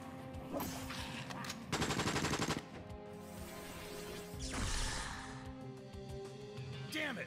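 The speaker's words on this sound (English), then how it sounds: "Our gunshots are drawing in more zombies." Bursts of rapid gunfire crackle amid game sound effects in the zombie video game Puzzle Survival, with a dense volley in the middle and scattered impacts around it.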